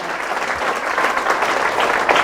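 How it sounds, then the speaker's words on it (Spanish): A church congregation bursts into loud, sustained applause after a Bible reading, with dense overlapping clapping from a crowd filling the room throughout. "Fuertes aplausos a la palabra de Dios"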